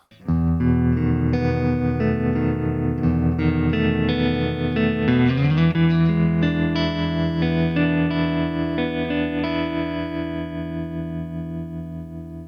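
Electric guitar rings out through a Supro tube amp in a gritty, slightly overdriven tone: a sustained, loud chord with shimmering harmonics, a slight change partway through, then a slow fade, with no voices.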